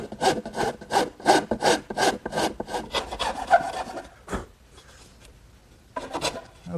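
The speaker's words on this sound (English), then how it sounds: "So I'm going to even those out using my rasp." A rasp files the wooden dovetail joint of a Shaker washstand in steady, rhythmic back-and-forth strokes, close and loud, then breaks off into quiet before a final short burst of rasping.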